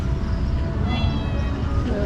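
A person imitates a cat's meow in a drawn-out, rising tone over noisy background chatter.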